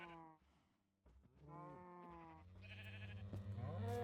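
Sheep bleat repeatedly in a video game, the calls sounding close and fairly loud with harmonic wavering tones, overlapping toward the end with no talking.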